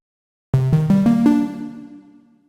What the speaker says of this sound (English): so that we have a nice and lush sounding reverb